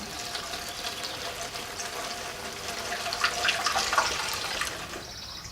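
Kerosene pours from a container into an empty jug, giving a steady close liquid gurgle and splash that swells slightly before tapering off.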